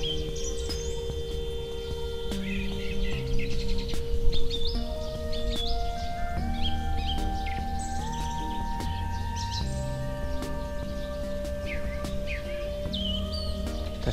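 Several birds chirp and sing in short bursts in Sofiyivka Park, Uman, against a low, steady background hum, fairly close, with occasional faint rustling.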